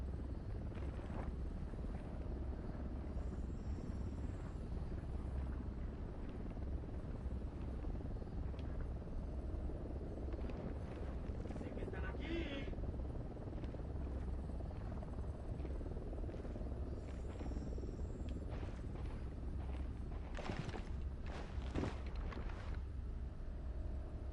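A helicopter in the video game Ghost Recon Wildlands makes a steady, continuous rotor drone and engine roar. The sound is loud and constant throughout, with a few brief bursts of other game noise on top.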